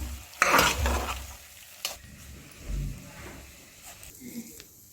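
Lentils sautéed in a pan give a few scraping stirs and a light sizzle with clinks against the pan, close by, while a voice talks intermittently.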